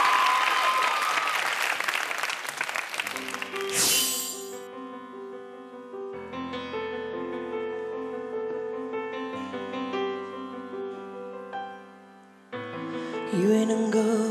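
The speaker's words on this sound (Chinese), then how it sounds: "掌声鼓励鼓励" A studio audience on a TV variety show claps in a bright burst for about four seconds. Slow melodic music then takes over and carries on alone.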